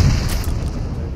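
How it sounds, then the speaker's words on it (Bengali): Grenade blast in the mobile battle royale game PUBG Mobile: a single loud, deep boom right at the start, trailing off into a rumbling low-end decay that stays dense for about a second. "লেফট দিয়ে গ্রেনেড মারতাছে"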